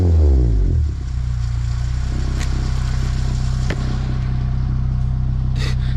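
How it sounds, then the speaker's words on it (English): A car with a custom 3-inch stainless steel exhaust, warmed up: a loud opening rev falls away to a deep, steady burbling idle that runs close and alone, with a slight dip midway. "So let me give you guys a couple of revs."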